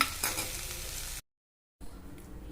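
Curry leaves and chutney ingredients are sautéed in a pan, giving a close, dense sizzle with stirring scrapes, cut off by a short silent gap before a quieter sizzle resumes.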